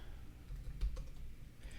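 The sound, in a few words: computer keyboard typing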